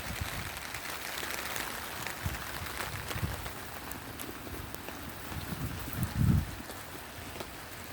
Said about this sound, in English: raining just a little bit.